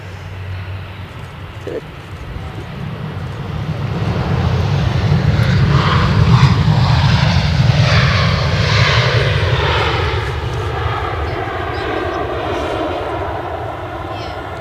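An EasyJet airliner arriving from London Stansted lands at Edinburgh airport. Its loud jet engine roar swells toward the middle and then slowly eases, heard close and without talk.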